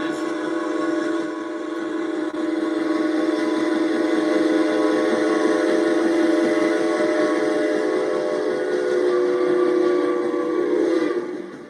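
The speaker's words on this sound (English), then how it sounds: "that is the sound of a train you should be getting onto" A steam train's whistle blows in one long, unbroken, loud chord lasting over ten seconds, its layered tones steady before cutting off at the end.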